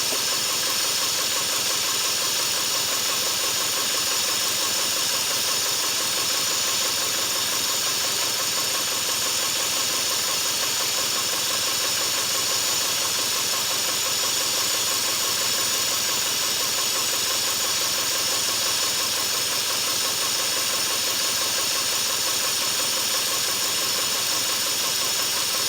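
A four-cylinder engine misfiring on only two cylinders runs steadily for the whole stretch, a loud, uneven knocking drone with constant hiss and no voices.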